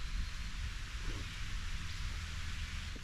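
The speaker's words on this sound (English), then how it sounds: "Can you hear that rain?" A light summer rain shower patters in the woods beside a hiking trail, a faint, even hiss of drops that continues without a break.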